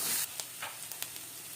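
Garlic paste fries in a pan for Assamese-style mutton curry, a close sizzling hiss that drops after a sharp opening burst, with light stirring scrapes and pops.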